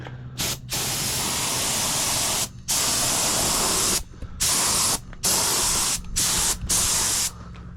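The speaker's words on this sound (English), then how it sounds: "Let's do one test spray right here." Loud bursts of spray hissing from a compressed-air paint gun test-spraying near a second-generation Cummins truck frame, several spurts separated by short pauses.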